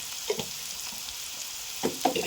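Potatoes, onion and banana flower fry in a pan with salt and turmeric, a low, steady sizzle broken by a few light scrapes and clinks of stirring.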